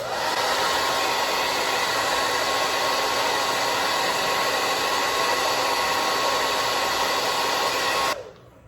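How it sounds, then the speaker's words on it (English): A blow dryer runs on its cool setting to dry and set a glueless bob wig, a loud, steady airy whir that holds unbroken for about eight seconds before switching off abruptly. "we're gonna take our blow dryers and cool"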